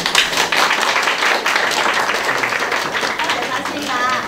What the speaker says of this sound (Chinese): 我哋鼓掌恭喜你嘅新嘅婚禮